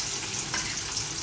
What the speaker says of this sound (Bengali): কড়াইতে সামান্য একটু তেল দিয়ে মাছগুলো ভেজে নেব